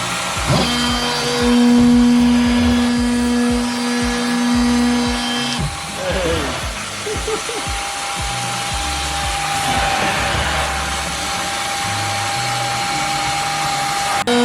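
A buzzing renovator power multi-tool runs in bursts against a grimy truck seat, its pitch shifting as it works the surface, with voices talking intermittently underneath.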